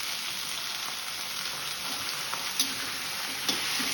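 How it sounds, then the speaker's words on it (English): Colocasia pieces fry with onion in a pan, a steady close sizzle with a couple of faint clinks of stirring. "Once onion fried, then add colocacia pieces."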